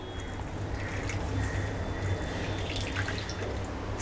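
Whey drains from freshly made paneer strained through cloth, rinsed with plain water to remove the lemon sourness; a steady trickling, dripping patter continues alone at moderate level.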